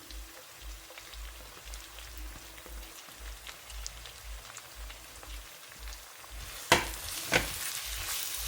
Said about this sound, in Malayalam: ഇനി നമ്മൾ ചെറുതായിട്ട് ചോപ്പ് ചെയ്ത് വെച്ചേക്കുന്ന സവോള ചേർത്ത് കൊടുക്കാം